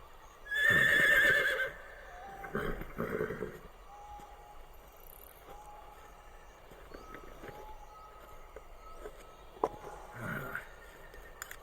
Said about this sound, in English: And I hear a horse in the background.